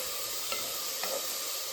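Crab curry masala fries steadily in a pan, a constant close sizzle with two faint stirring scrapes partway through.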